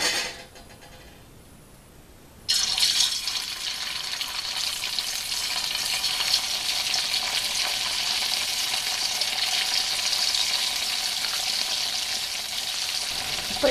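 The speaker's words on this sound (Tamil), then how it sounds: "இப்போ நம்ம இந்த வேக வச்சுருக்க இந்த சேப்பங்கிழங்கை கொஞ்சம் கொஞ்சமாக போட்டு அதை ஃப்ரை பண்ண போகிறோம்." Pieces of boiled taro root drop into hot oil for deep frying: a quiet start, then an abrupt loud burst of sizzling that holds as a steady, dense crackle.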